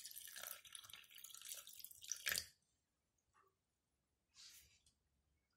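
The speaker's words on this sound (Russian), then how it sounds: "И добавляю теплую воду." Warm water pours briefly into a bowl of buckwheat bread mix up close, then stops, followed by a couple of faint splashes and drips in near silence.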